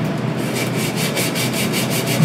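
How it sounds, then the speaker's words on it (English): A hand deburring tool scrapes along the edge of a wooden wall unit block in quick, rhythmic rasping strokes, close and steady with no voices. "Now I'm just going to slightly deburr here."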